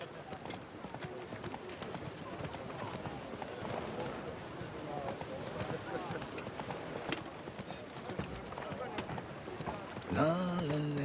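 Hooves of Roach, a horse in the video game The Witcher 3, galloping in a steady clip-clop rhythm under game ambience, with a brief burst of speech near the end.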